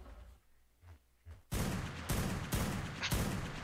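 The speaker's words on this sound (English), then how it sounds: "I love hearing the distant gunshots as you're trying to do this experiment." Several loud gunshot blasts from a distance in the game Ark Survival Evolved, arriving in a rapid irregular volley of four or five bursts after a quiet stretch of faint thumps.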